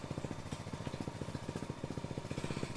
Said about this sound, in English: now I'll push the button for the power dump.